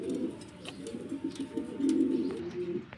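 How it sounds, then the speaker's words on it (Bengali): A pigeon coos in low, throaty, repeated pulses, close and continuous, with a faint chirp or two in the background. "আশা করি একজোড়া কোয়ালিটিফুল কবুতর।"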